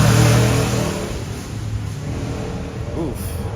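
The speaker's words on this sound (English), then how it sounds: "The engine sounds rough." A van's engine revving and running rough on a Los Angeles street, a loud low rumble that eases off into an uneven idle, with a voice briefly audible over it.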